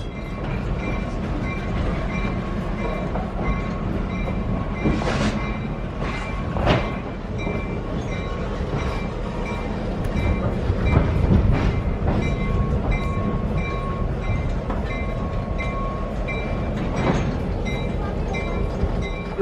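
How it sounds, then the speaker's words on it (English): An old train rolls steadily along the tracks near a ghost-town railway in Ely, Nevada, a continuous loud rumble with clattering wheel knocks and occasional sharper metallic clanks, heard alone without voices. "Something about the sound of an old train going down the tracks."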